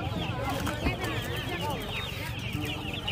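Roosters and hens at a market, heard as continuous clucking and chattering fowl over a busy background hum, with people talking throughout.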